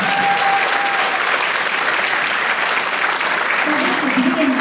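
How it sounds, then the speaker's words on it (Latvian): Loud, sustained applause from a concert audience at a folk dance ensemble's 50th anniversary show, a steady dense roar of clapping filling the whole stretch. "Vēlreiz skaļi aplausi."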